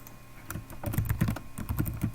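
A short burst of rapid, close key clicks on a computer keyboard as a folder name is typed, the taps clustering in quick runs.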